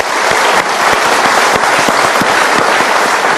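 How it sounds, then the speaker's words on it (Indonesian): A studio audience at a televised motivational talk show gives loud, dense applause that stays close and sustained the whole time, with sharp claps standing out over the steady roar. "kita berikan tepuk tangan dulu"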